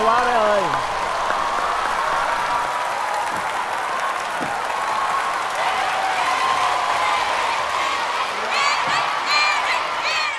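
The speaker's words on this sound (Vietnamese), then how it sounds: "Xin một tràng pháo tay một lần nữa cho Eric." Audience applause and cheering at a televised Vietnamese entertainment show, a dense, loud crowd roar with whoops sustained for about ten seconds while a voice speaks over it.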